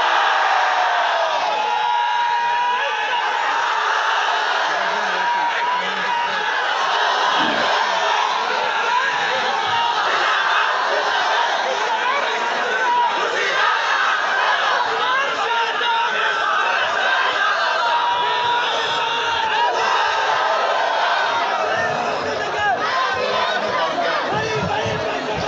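A large crowd at an outdoor religious gathering chants the Nara-e-Takbir slogan, a continuous loud roar of many voices shouting together, with no break throughout.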